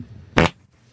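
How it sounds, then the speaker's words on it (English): Two short, loud broadband fart bursts a half second apart, close and dry, with a quiet room hum between them and no voices. "That sounds like a Ralph Macchio fart if I've ever heard one"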